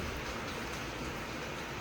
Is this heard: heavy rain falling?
yes